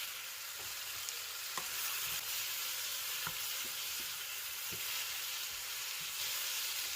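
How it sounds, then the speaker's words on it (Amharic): Tomatoes fry with onion and potato in a pan, giving a constant close sizzle broken by scattered light taps and scrapes of stirring, with no voices. "ቲማቲሙን 1-2 ደቂቃ እንጠብሳለን።"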